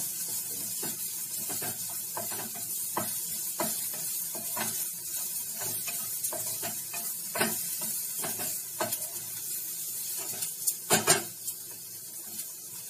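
Onions sautéing in a pan, with a steady soft sizzle under repeated clinks and scrapes of a spatula stirring, close and fairly quiet, no voices.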